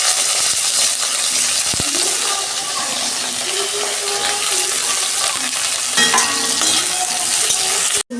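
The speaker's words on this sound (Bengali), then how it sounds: "বেগুনগুলো আমি একটু ভেজে নেবো" Small cut pieces of eggplant frying in oil in a wok make a loud, busy sizzle with stirring scrapes and spatters throughout, ending in a sudden cut near the close.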